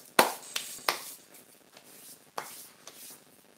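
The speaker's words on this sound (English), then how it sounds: "Now spray fix." Short hissing bursts of fixative spray from a can over a chalk pastel car sketch: three quick puffs close together, a pause, then a couple more brief sprays, each sharp and fading fast in a quiet room.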